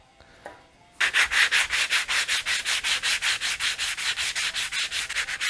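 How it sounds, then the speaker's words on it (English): A primed surface is sanded by hand: after a brief quiet start, about twenty steady back-and-forth rasping strokes follow one another in an even rhythm, close and clear with no voices. "let's see if we can sand a little bit more on this thing"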